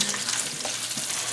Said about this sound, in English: down here I'm frying bacon